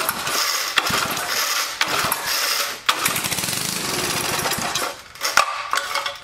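An old cemetery lawn mower engine runs loud and rough, a steady mechanical clatter with a few brief dips and surges, close to the microphone and with no talk over it; the engine may need a valve job.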